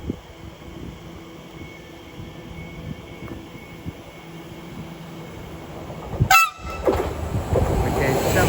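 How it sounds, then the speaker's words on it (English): A Greater Anglia passenger train from Norwich to London Liverpool Street passes through Shenfield station, a low rumble under platform noise building to a loud, close broadband roar with a brief horn-like tone near the end. "Passing through now will be a Greater Anglia service from Norwich to London Liverpool"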